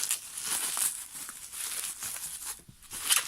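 Tape-wrapped parcel packaging is torn and crinkled open, with bursts of ripping and rustling plastic and paper, close and irregular, growing louder toward the end.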